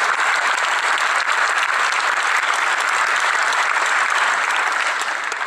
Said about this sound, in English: If everybody could please give him a round of applause.